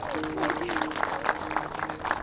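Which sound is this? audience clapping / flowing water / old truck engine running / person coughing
audience clapping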